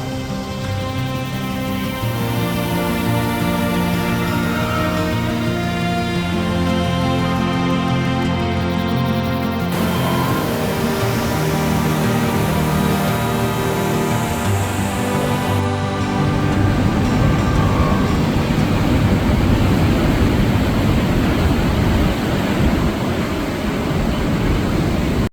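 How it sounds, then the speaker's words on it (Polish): Rough, churning ocean surf at Ceningan island near Bali, a dense continuous roar of breaking waves that swells louder toward the end, with no voices. "Dziś ocean jest wyjątkowo wzburzony."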